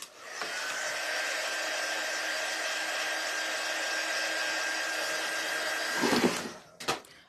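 A hair dryer hums steadily at close range while drying a freshly washed cleaning mat, a continuous whir that cuts off near the end, followed by a couple of brief handling knocks.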